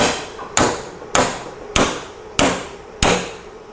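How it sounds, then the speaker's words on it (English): Six sharp, ringing metallic hammer strikes on a steel weld land at a steady rhythm, each blow loud and close with a short decaying ring. "We're going to hammer this thing, fold it over"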